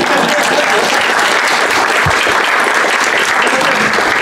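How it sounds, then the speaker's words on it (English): An audience applauds a timekeeper at a 2018 New Hampshire Libertarian gubernatorial debate, with steady, dense clapping from a crowd filling the room at a constant loud level throughout, with no voices standing out. "quick round of applause for our timekeeper, Brian"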